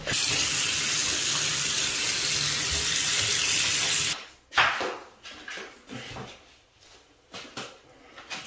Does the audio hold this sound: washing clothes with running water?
yes